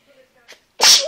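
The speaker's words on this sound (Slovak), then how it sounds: "mne treba kýchnuť" A single loud, close sneeze bursts out abruptly after a few faint breathy sounds, ending with a short voiced tail.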